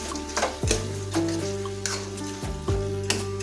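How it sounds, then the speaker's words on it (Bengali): In a karahi pan, crushed fried biuli dal bori is being stirred into mashed mixed vegetables, giving uneven scraping and stirring strokes close by, with a low sizzle and faint ringing tones underneath. "এখন আমরা মিনিট খানিক ধরে নাড়াচাড়া করে নেবো।"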